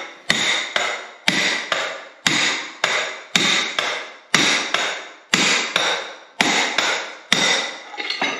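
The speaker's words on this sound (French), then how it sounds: "va nous permettre en fait de taper pile sur la portée intérieure ici et pas sur le roulement" A hammer drives a steel tube onto a bearing's inner race during chassis reassembly of a turbocharged Suzuki Hayabusa motorcycle. About sixteen loud, close, ringing metallic blows land in a steady rhythm with no talk.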